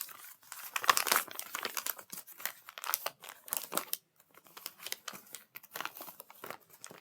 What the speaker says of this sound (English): You're going to fold it and turn it into the middle of the paper